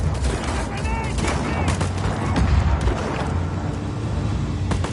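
Dense bursts of automatic gunfire rattle through a Just Cause 4 firefight, overlapping shots and booms over a constant rumbling backdrop, loud and continuous.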